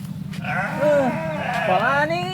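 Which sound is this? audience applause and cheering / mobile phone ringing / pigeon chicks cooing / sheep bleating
sheep bleating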